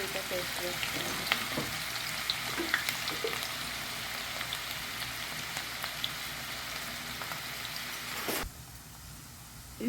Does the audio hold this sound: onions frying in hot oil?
yes